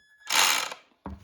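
A toy-grade RC boat motor on test gives a short, bright whirring buzz that rises sharply and fades within a second, followed by a brief mechanical clatter.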